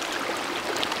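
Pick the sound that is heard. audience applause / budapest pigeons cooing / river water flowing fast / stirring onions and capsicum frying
river water flowing fast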